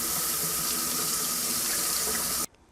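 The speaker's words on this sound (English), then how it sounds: "Now I can wash in the sink." A kitchen sink faucet runs in a steady close hiss while a vegetable chopper is rinsed, then shuts off abruptly near the end.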